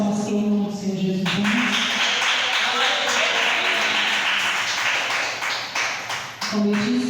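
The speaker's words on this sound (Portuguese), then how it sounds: "Mais palmas para o nome do Senhor Jesus." A church congregation claps together in a dense, sustained wave of applause that lasts several seconds, with a voice heard just before and after it.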